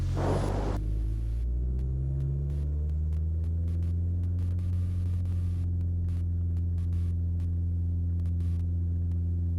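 A small airplane's engine pushed to full throttle for takeoff, a loud steady droning rumble with a deep harmonic hum that holds for several seconds after a brief initial rush of air, close and without talk.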